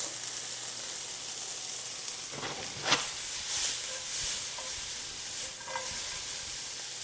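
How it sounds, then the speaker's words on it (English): Omelet eggs sizzle steadily in a frying pan with a soft continuous hiss, broken by a few scraping stirs and light clinks of a utensil, close and fairly quiet, with no talking. "Okay, nicely sizzling."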